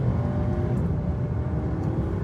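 A Skoda Superb with a DQ200 gearbox accelerates in normal mode, heard from the cabin as a steady low engine drone and road rumble with no talk.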